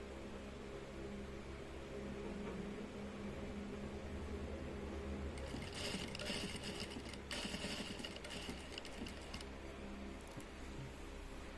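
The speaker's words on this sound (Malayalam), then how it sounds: "ഇനി നമുക്ക് ആ കോണായിട്ട് വരുന്ന ഭാഗം നേരെ സ്റ്റിച്ച് ചെയ്യാം" A sewing machine stitches a shirt pocket, its motor whirring faintly in bursts of rapid needle chatter over a constant background hum, with short pauses between runs.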